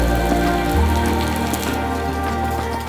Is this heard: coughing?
no